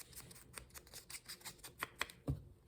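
Kid craft scissors cutting paper for a junk journal, a series of quiet, regular snips and crisp blade clicks, each cut close and distinct, ending with a heavier thump.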